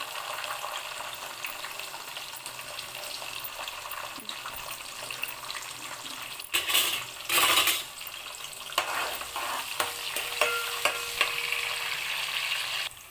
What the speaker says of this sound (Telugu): చూడండి ఆనియన్స్ అయితే బాగా డీప్ ఫ్రై అవుతున్నాయి